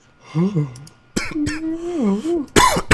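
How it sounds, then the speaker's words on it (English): A few short coughs and a throat-clear, close by, mixed in with bursts of talking. "Oh, coughing."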